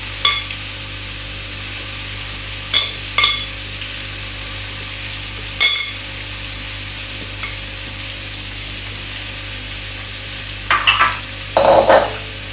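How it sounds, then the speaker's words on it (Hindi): Vegetables for a chicken spring roll filling, capsicum among them, stirred in a hot pan, giving soft continuous sizzling with a few sharp scraping clinks of the spoon and a busier clatter of stirring near the end. "आपने इसी तरह से सारी वेजिटेबल्स इसमें ऐड कर देनी है।"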